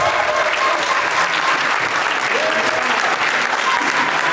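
A conference audience at a book signing event in Yaoundé applauds, a dense, steady wash of clapping from many hands that holds at full strength for the whole stretch, with no speech over it.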